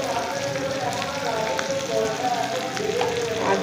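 Chicken pieces frying in a pan with cumin powder, a steady close sizzle and crackle running throughout while someone talks over it.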